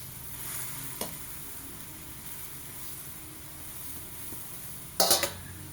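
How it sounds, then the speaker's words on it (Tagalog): Spring roll wrappers fry briefly in a pan with a soft, steady sizzle, broken by a couple of sharp clattering knocks, one early and a louder cluster near the end. "Saglit lang yung prito ng wrapper."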